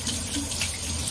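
Tap water running steadily into a sink while slices are rinsed for stir-fried rice noodles, a brief, close, even rushing splash with no talk.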